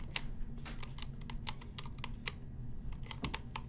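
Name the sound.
typing on keyboard with NovelKeys Silk and Dry switches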